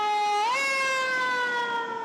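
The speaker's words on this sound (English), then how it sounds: "dogs barking, emergency vehicles," An emergency siren wails steadily, its pitch sweeping upward once before holding a loud, sustained tone with no talking.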